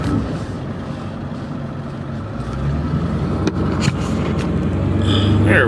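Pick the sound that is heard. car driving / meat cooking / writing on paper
car driving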